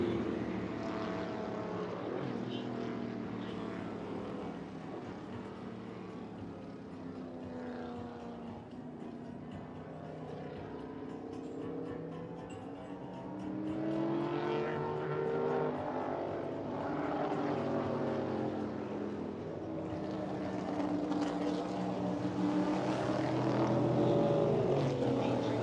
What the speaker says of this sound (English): it looks like the 31 of Jonathan Ornstein, that 1987 Tommy Riggins Oldsmobile Cutlass just went by here.